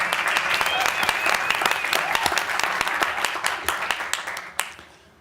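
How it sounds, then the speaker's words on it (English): Audience applause at a political event, dense steady clapping from a large crowd that trails off near the end with a few last claps. "let's give a round of applause to that idea."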